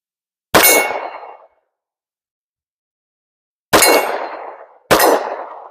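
Three 9mm pistol shots striking a steel target outdoors, each a sharp loud clang with a short ringing decay, the first alone and the last two about a second apart.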